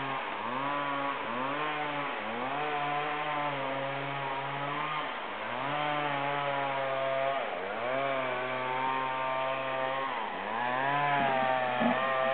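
A chainsaw rips lengthwise through timber to cut planks at a jungle camp in Borneo, a steady loud whine that dips and rises again several times across the cut.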